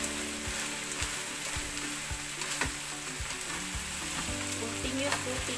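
Crab cooks in fresh coconut milk, a loud continuous sizzle and bubbling fry with regular scraping stirs and knocks of a utensil in the pan, no talking.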